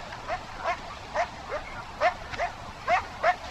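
A dog barks in the video game Far Cry 4, about seven sharp, evenly spaced barks at moderate distance over a low ambient bed, with no talking.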